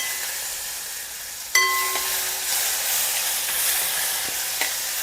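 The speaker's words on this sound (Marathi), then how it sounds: "जिरं, थोडंसं हिंग, कढीपत्ता आणि ही जी मी आत्ता तुम्हाला पेस्ट सांगितलेली ती घालते." Cumin, asafoetida, curry leaves and spice paste drop into hot oil for a vegetable curry of brinjal and potato. A sudden loud sizzle rises and then keeps hissing steadily, with a light metallic clink from the pan, close and alone.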